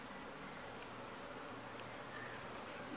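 A honeybee swarm being moved into a standard hive gives a steady, dense buzzing hum. It stays continuous and even throughout, with no talk.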